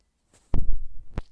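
A washing machine thumps in the background during a mobile gaming session, giving a short burst of dull low knocks with a couple of brief thuds. No talk is heard.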